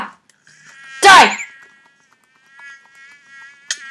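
Game mosquito in Minecraft with the Hexxit modpack makes a thin, high, steady whine that rises partway through and holds to the end, with a short loud burst of noise near the start and a faint click near the close.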